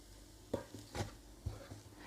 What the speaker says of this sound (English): After 2 minutes of simmering on the heat, give it one last mix.